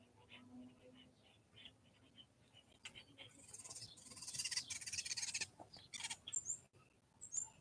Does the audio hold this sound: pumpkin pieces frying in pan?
no